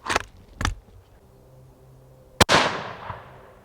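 A Haenel Jaeger 10 hunting rifle fires outdoors in the field, with two muffled reports early on and then one sharp, loud shot that rings out in a long decaying echo.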